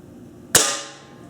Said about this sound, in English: And then we'll go ahead and get ready to shoot.